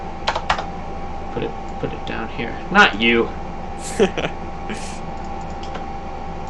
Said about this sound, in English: Let me move this so I can see what I'm typing.